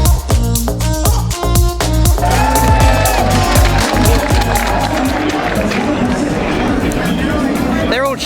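Crowd noise at a Formula E race, with a loud, continuous mix of cheering, shouting and babble that fills the whole stretch and stays close and busy throughout.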